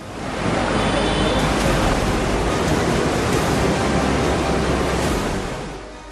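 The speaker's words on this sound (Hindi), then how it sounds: "आसपास के और भी कई पुलों के ऊपर से पानी का तेज सैलाब बह रहा है।" Floodwater of the swollen Narmada River rushes over submerged bridges after heavy rain, a loud, dense, unbroken roar of torrent that holds steady throughout.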